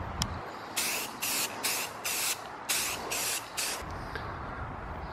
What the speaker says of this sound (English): So I'm gonna spray it black and see how that looks.